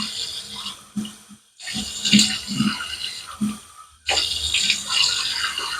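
Water running from a tap into a sink, splashed up to wet the face before a shave, in close bursts broken by short pauses, with soft splashing and handling.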